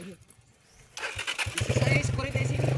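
Near a tower maintenance site, a motorcycle engine is cranked after a quiet start, catches abruptly and settles into a loud, choppy, pulsing idle close by, with voices nearby.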